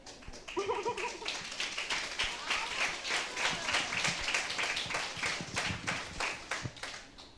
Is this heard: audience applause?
yes